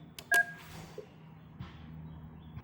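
Keypad tones dial an extension on a 3CX VoIP office phone, a few short beeps close up with a quiet gap and a low background hum.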